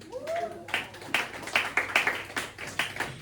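A church congregation claps along during a worship service, a series of steady rhythmic claps at moderate distance, with voices mixed in.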